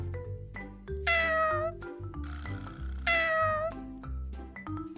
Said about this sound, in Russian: Кот мяукает.